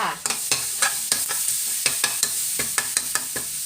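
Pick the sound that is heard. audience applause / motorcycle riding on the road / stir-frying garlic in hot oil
stir-frying garlic in hot oil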